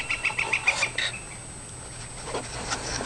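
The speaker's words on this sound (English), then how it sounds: "That bird's annoying." Near a farmhouse, a bird gives a quick run of short, sharp, chirping calls that fade out into faint outdoor background.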